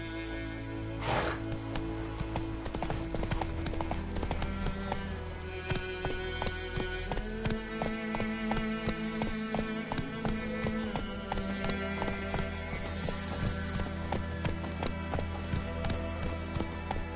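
Horse hooves clip-clopping steadily in The Witcher video game, a continuous rhythmic trot layered over game music and ambience, with an occasional brief snort.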